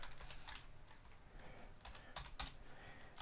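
Fast typing on a computer keyboard while filling in a form in an app builder, rapid close clicks in steady bursts, faint and without any voice over it.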